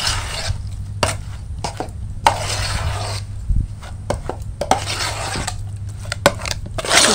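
A spoon scrapes and stirs semolina batter in a bowl as milk and a little water are worked in for steamed palm bowl pitha: repeated close, rasping strokes with light clinks against the bowl, and no talking.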